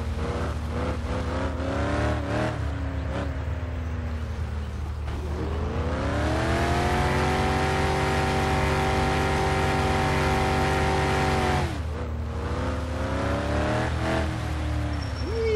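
A car engine in the My Summer Car video game revs and holds high while drifting, with pitch rising and falling through gear changes, loud and continuous, with some tire noise.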